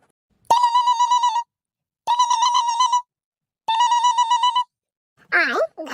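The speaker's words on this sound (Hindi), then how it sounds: "आए घंटिया तो जात बाटा, हमार बच्ची फोनवा उठाउती काहे नहीं" A phone ringing through an unanswered call: three evenly spaced, loud electronic ring bursts of about a second each, followed by a brief fragment of a voice or other sound at the end.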